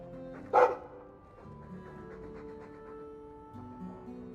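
A guard dog in the Dragon Age 2 video game gives a single loud bark over a steady game music bed, then fades back under the soundtrack.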